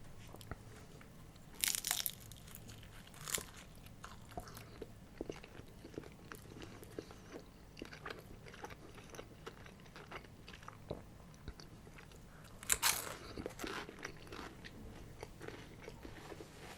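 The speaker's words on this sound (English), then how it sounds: "this is cheese phyllo. I specifically got this to make a nice crunch to it" Crunchy cheese phyllo pastry being bitten and chewed in a Turkish food mukbang, with two sharp, loud crunches near the start and later, and quieter close-up chewing between them.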